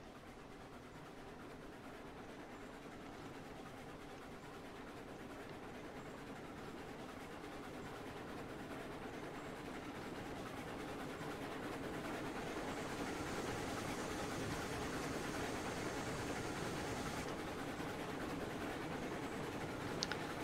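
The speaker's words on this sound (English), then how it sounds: "Let's wait for the train to come back." A train in the railway game RailRoads Online approaches with a steady rumbling roll that slowly grows louder over about twenty seconds, with no talk.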